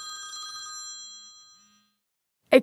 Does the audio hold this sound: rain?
no